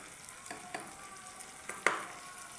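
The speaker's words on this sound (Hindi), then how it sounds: "इसको अच्छी तरह से आपने फ्राई करना है प्याज को।" Onions frying in a pan with two tablespoons of ginger-garlic paste for a samosa or roll filling, a soft steady sizzle with a few light stirring scrapes, one sharper clack near the end, no talking.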